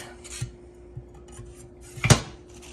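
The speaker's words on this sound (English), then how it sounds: "I'm going to clean our knife and put it back." A kitchen knife cleaned at a sink, a few soft rubbing scrapes followed by one sharp metallic clatter near the end, close and alone.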